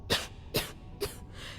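A character in the video game Starfield coughs three times in short, evenly spaced bursts, close and clear, with a fainter fourth cough trailing off.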